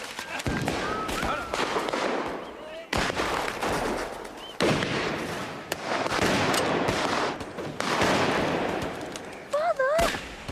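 Hunting guns loaded with stronger cartridges fire during a shoot, several loud sharp bangs spread across the clip amid a noisy outdoor scene, with a whistle-like tone near the end.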